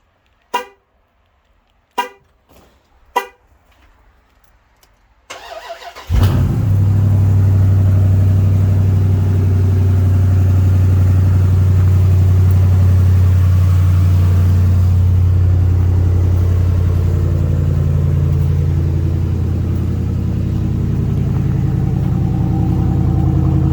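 Three short beeps from a key fob, then a Dodge Durango SRT 392 engine cranks on a cold start and fires into a loud, deep, rumbling idle that holds steady for a long stretch.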